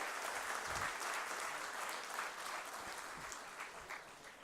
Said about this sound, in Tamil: ஸோ பெரிய கைத்தட்டல் கொடுக்கலாமா எல்லாரும் சாருக்காக?